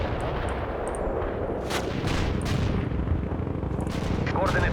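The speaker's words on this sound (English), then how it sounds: "Commencing the barrage." An artillery barrage in the video game World in Conflict, with a dense continuous rumble of distant explosions and scattered sharper blasts, loud and sustained throughout.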